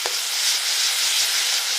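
Fish curry masala, with a little sugar added, is sautéed in a pan, giving a loud, steady frying sizzle and hiss from close by with no pauses.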